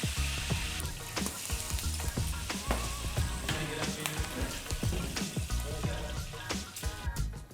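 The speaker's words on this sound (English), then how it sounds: "Fry the chilies." Garlic and chilies frying in oil in a pan for a Turkish lamb liver kebab, a steady close sizzle with crackling pops running throughout.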